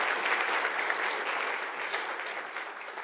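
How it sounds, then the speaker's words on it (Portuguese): A congregation at a church service applauds in a thick, steady burst that eases slightly toward the end, with no one speaking over it. "Pode dar uma salva de palmas para minha esposa"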